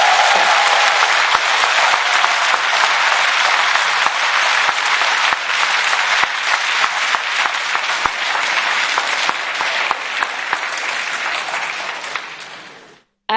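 Loud, sustained applause fills a parliament chamber, dense clapping from a large assembly that continues evenly for over ten seconds before cutting off abruptly.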